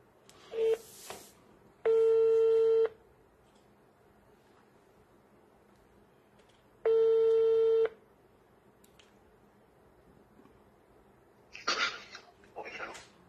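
Phone call ringing tone: two long, loud electronic ring bursts, each about a second and separated by a pause, with brief speech before and after.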